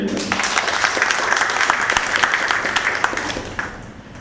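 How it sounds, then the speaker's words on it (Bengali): An office audience gives a burst of applause, dense steady clapping that holds for about three and a half seconds before tapering off, fairly loud and close. "এনাদের জন্য একটা হাততালি আমি চাইব"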